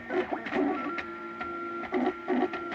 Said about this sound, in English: You can see it laying down plastic layer after plastic layer. It's probably kind of loud.